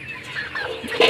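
A broiler chicken struggles and clucks on a poultry farm, agitated close squawks rising louder toward the end, alone without talk.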